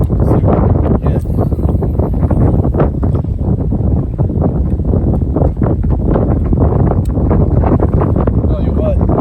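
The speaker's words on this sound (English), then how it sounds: "the wind is strong and the waves are coming up over the bow" Strong wind roars over the microphone out on a lake during a storm, loud and constant, with waves slapping against a small fishing boat throughout.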